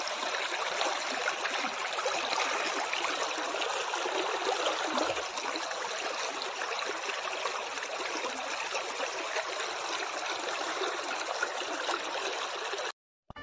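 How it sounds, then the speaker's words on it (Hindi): River water flows steadily at a riverbank, a continuous broad rushing and trickling wash that stays close and even throughout with no talk, cutting off abruptly at the very end. "हम लोग अभी नदी में पहुंच गए"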